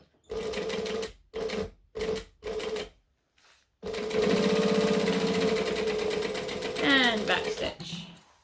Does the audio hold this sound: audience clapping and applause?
no